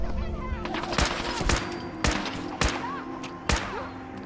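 Gunfire in the Fallout 4 VR video game, five sharp shots spaced about half a second to a second apart over a steady in-game background hum, fairly loud and close.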